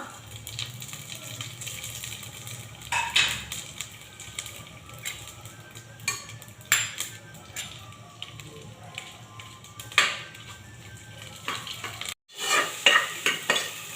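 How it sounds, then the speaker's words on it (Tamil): Onions and whole spices such as cinnamon sauté in a pan for tomato rice, giving a low continuous sizzle with repeated close stirring scrapes and clinks, and a brief break near the end. "வெங்காயம் வதங்கிட்டுருக்கு."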